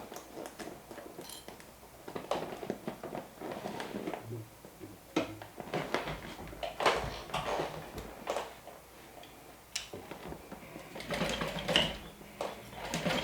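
A sewing machine stitches close to the edge of a clear vinyl beach bag in a run of quick mechanical ticking bursts with short pauses. The sound stays near and moderately loud.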